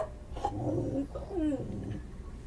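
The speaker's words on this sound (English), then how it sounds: "Tell your cat to quit barking." A cat makes short, rough bark-like vocalizations, a couple of strained calls with growly tone, heard at moderate distance in a room.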